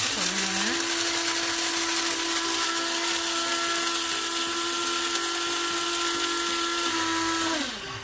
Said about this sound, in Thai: เราจะบดเมล็ดกาแฟหยาบหยาบหยาบก็คือประมาณน้ำตาลทรายกรวดนะคะ